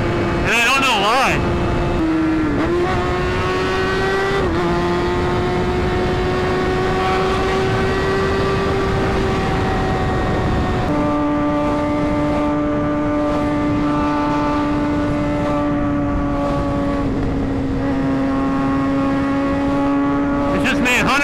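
A Kawasaki ZX6R motorcycle on a night ride holds a loud, sustained engine whine, rising and settling as the revs change, with a brief shift and drop partway through, heard close over wind noise.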